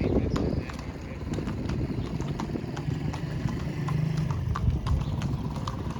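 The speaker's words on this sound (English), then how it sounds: "Here's a man on a horse coming." Hooves of a ridden horse clip-clop in a quick, steady rhythm on a hard lakeside street in Chapala, Mexico, close by, over background traffic hum and an idling engine.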